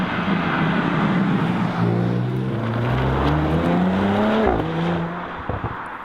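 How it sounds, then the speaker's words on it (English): An Audi RS5 V6 coupe with the optional sports exhaust revs and accelerates, a loud rising engine note with gear-change steps, then the roar drops away near the end. "And with the Audi, this is the optional sports exhaust."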